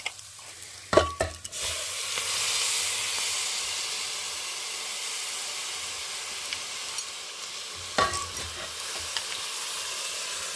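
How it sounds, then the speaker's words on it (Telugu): Washed rice is tipped into a cooking pot for coconut pulao and stirred. Scraping and rattling bursts come at the start and again near the end, over a steady sizzling hiss, with no voices. "ముందుగా మనం కడుగు పెట్టుకున్న బియ్యం వేసేస్తున్నాం"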